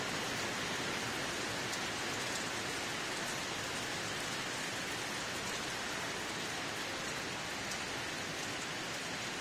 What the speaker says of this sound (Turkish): Geçenki sel oldu ama bu seferki normal yağıyor